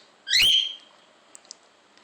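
A pet mynah bird gives a single loud, sharp whistling call, followed by faint clicks in a quiet room.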